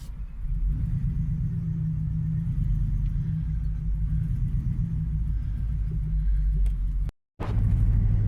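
A Hummer H2 engine drives slowly around a yard, still running rough with a fault code flashing, heard as a steady low rumble and hum near the mic, broken by a brief dropout near the end.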